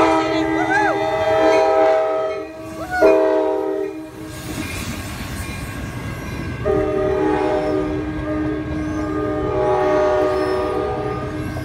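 A manifest freight train rumbles past up close at the old Kent station, Washington, with a loud, repeated horn blast over the steady clatter of wheels and rail cars.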